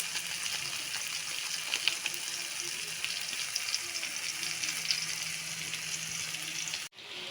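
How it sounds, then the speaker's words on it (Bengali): Noodles frying in a pan make a steady, soft sizzle with faint stirring scrapes throughout, heard close but low in level, with no voices. "এখন আমি নুডলসগুলো দিয়ে ভালোভাবে ভেজে নিব"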